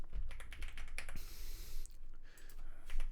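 Typing on a computer keyboard with quick uneven clusters of soft clicks and taps, close and quiet, with no talking.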